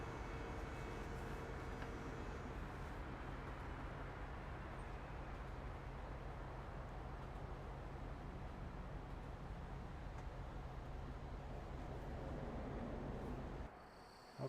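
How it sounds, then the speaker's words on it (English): A train passes through a town in American Truck Simulator, a steady distant rumble of rail traffic running throughout before cutting off near the end. "I hear a train, so the rail line looks like it passes through this town also."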